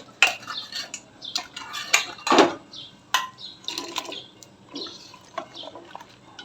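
A spoon stirring a freshly poured yogurt mixture in a container, giving close clinking and scraping taps in an irregular rhythm with brief louder knocks, no talk.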